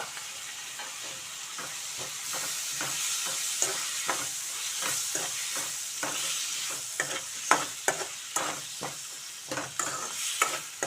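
Brinjal curry frying with freshly added chopped tomatoes, a loud continuous sizzle under frequent sharp scraping and clinking spatula strokes that grow busier toward the end, heard up close without speech.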